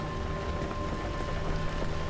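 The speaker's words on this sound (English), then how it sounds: "is this seriously raining again?" Rain in the Pacific Drive driving game, a steady hissing downpour heard from inside a car, constant and moderately loud with low rumble underneath.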